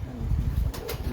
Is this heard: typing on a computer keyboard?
no